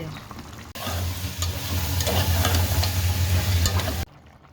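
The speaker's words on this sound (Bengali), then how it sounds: "এই যে বড়ইগুলা লাউর মধ্যে দিয়ে দিলাম" Lentil dumplings frying and being stirred into bottle gourd curry in a hot pan, giving a loud, steady sizzle with scraping stirs that starts abruptly and cuts off after about three seconds.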